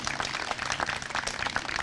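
Audience applause at a news conference announcing a free youth transit pass, steady dense clapping throughout the short moment, moderately distant and even in level.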